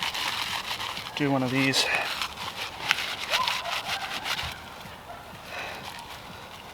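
Dry plant fibres are shredded and rubbed apart by hand outdoors while preparing fire tinder on an early fall backpacking trip, giving scratchy rasping bursts close by as someone speaks briefly.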